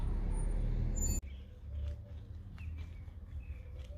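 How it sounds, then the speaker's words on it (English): A few faint bird chirps sound sporadically over a low outdoor rumble after a loud noise cuts off abruptly near the start. "There's only a few birds"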